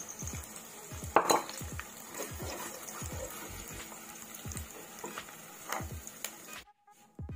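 Paneer pieces frying in hot oil in a pan for Paneer Changezi, with a steady sizzle and repeated clinks and scrapes of a utensil turning the pieces, ending abruptly near the close.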